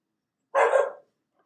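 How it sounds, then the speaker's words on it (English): A single short burst of barking from a pet dog at home, loud and close, about half a second long with silence before and after. "my dogs are barking"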